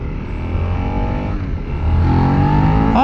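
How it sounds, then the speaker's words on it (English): A 2024 Suzuki SV-650 V-twin motorcycle engine pulls hard under acceleration, a steady loud rumbling drone that dips briefly then climbs in pitch and volume as the revs rise, heard up close from the rider's position. "That V-twin motor has got plenty of torque."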